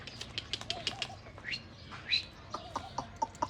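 A pet parrot chirps in short, sharp bursts, with wing flaps and quick fluttering clicks between calls, close by against a quiet room.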